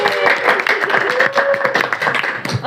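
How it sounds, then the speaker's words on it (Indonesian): Audience applause for two podcast guests, the heads of an informatics student association, at a university podcast recording: dense, steady clapping from a nearby group, loud and sustained for the whole stretch. "Tepuk tangan dulu dong yang meriah."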